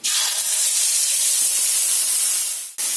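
Cumin, ginger and green chilli paste hits hot oil in a pan, letting out a loud, steady broadband sizzle that holds for nearly three seconds, dips briefly, then surges again, with no voices over it.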